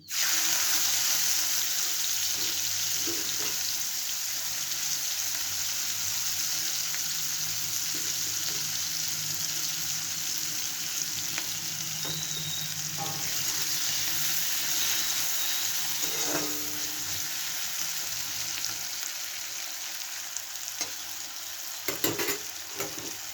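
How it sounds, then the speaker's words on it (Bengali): Chopped onions frying in oil with nigella seeds in a pan over lowered gas, a steady close sizzle running throughout with occasional stirring and clinks. "পেঁয়াজটা একটু লাল লাল ভাজা হয়ে গেছে"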